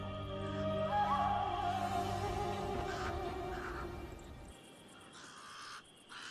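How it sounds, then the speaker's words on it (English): Pied crows give harsh, repeated caws over a steady outdoor background at a desert watering hole. "The pied crows are getting worked up about something."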